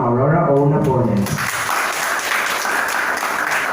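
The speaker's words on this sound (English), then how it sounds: "Everyone, let's clap our hands to Ma'am Aurora O. Napoles." After a brief stretch of a voice speaking, an audience at a school debate event breaks into steady applause, many hands clapping at a moderate distance and continuing to the end.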